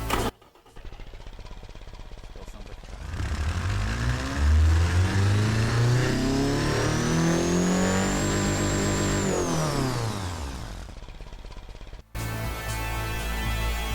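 A player-built car in BeamNG.drive revs hard, its engine pitch climbing steadily to a high sustained whine before dropping back off, loud and close with no talk, followed by a rougher idle.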